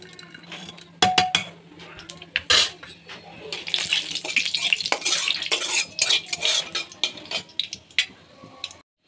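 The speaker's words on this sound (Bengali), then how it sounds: "তেলের মধ্যে আমি দিয়ে দিচ্ছি পাঁচফোড়ন, একটা শুকনো তেজপাতা, আর দু তিনটা শুকনো লঙ্কা দিয়ে দিলাম" Panch phoron, a dried bay leaf and two or three dried red chillies frying in hot oil for a bamboo shoot and chana dal gravy, with clinks of a utensil against the pan and scraping stirs over a steady background.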